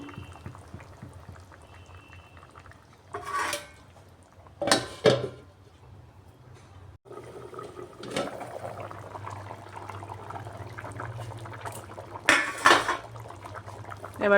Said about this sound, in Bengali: ঝুলটা ফুটে উঠছে এখন গ্যাসের আঁচটা কম করে কিছুক্ষণ ঢাকা দিয়ে রাখবো